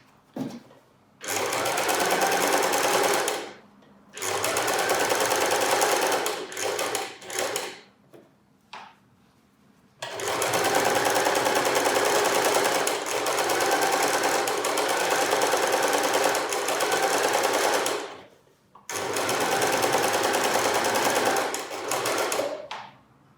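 A sewing machine stitches a concealed-zip cushion in loud, rapid mechanical bursts, running steadily for several seconds at a time with short pauses between runs as the fabric is turned.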